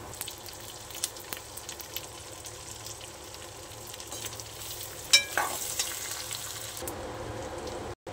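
Brinjal frying with onion and tomato in a pan, a soft continuous sizzle with scattered scrapes and stirring clatter, including a sharper clank midway before the sound settles into quieter frying.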